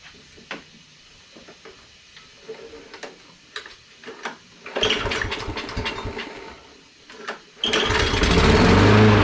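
A Toro lawn mower with a starting fault is worked on in quiet, with clicks and taps, then its engine catches and runs loudly in two bursts, briefly dipping before roaring up again close by.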